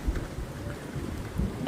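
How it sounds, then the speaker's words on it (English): Hard, heavy rain pours down on a front-yard dog park, a steady dense hiss with low rumbling patter that stays loud and unbroken throughout. "it has been raining so hard"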